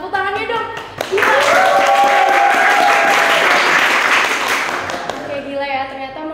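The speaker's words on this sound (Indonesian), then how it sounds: "tepuk tangannya dong" An audience bursts into loud, sustained applause that swells and then tapers off over several seconds, while a host's voice and a tonal sound sit partly over the clapping.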